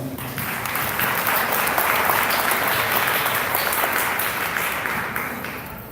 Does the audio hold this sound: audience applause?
yes